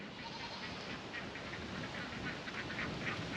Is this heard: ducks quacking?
yes